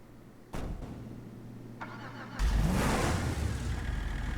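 A Canis Kamacho offroad truck in a video game starts up with a sharp crank, idles with a low steady hum, then revs hard into a loud, gritty roar that holds to the end.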